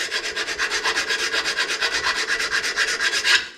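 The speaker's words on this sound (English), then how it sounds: "So what I do is I just use a file like this." A hand file scrapes rust off a Jeep Liberty KJ brake caliper bracket, a close, loud and fast run of about two dozen even rasping strokes, with no talk.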